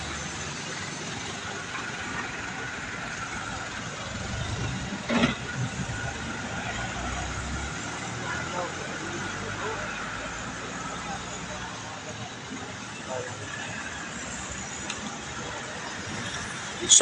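Road traffic rumbles and idles steadily at the scene of a vehicular accident in Mandalagan, with engines droning and an occasional passing vehicle, while voices murmur in the background.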